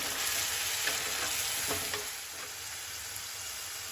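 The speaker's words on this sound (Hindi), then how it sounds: "अब इसमें ऐड करेंगे हम टमाटर, अच्छे से मिला लेंगे।" Tomatoes are stirred into onions frying in a pan, giving a loud, hissing sizzle with a few scraping stir strokes early on before the frying settles to a steadier hiss.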